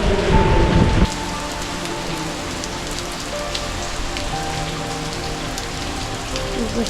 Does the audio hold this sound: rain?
yes